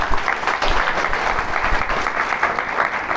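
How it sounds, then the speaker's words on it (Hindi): Loud, sustained applause from a motivation seminar crowd in Kathara, Bokaro, clapping for a participant: thick, even clapping that holds steady throughout without voices standing out. "अनीश के लिए एक बार जबरदस्त तालियां।"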